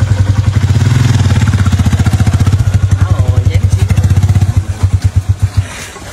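A motorbike engine runs close and loud with a rapid, pulsing putter, holding steady as it rides along, then easing off and chugging slower near the end.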